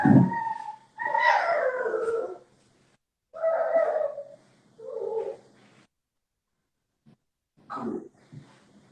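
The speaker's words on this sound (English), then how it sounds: "My dog is just making noise." A dog gives a series of drawn-out vocal howls and whines indoors, in about five separate bursts with quiet gaps between them, fairly close to the microphone.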